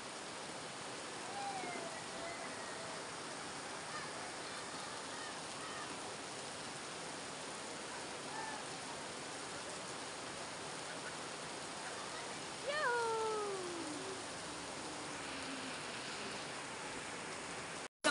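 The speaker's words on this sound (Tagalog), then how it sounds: "Lakas na ulan." Heavy rain pours down steadily at an outdoor swimming pool, a loud, unbroken hiss throughout, with a brief voice rising over it partway through.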